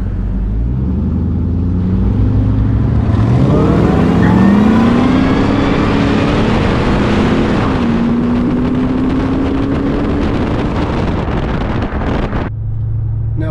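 A stock 2001 Ford Crown Victoria, fitted with a supercharger and nitrous, accelerates hard from a low rumble into a rising engine note that holds loud and steady before dropping off sharply near the end.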